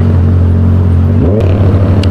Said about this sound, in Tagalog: Ang ingay ng exhaust niya.